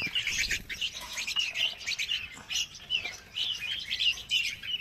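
Young red-whiskered bulbuls chirp and tweet from their cages on a bird farm, a busy, steady stream of overlapping high calls close by with brief gaps.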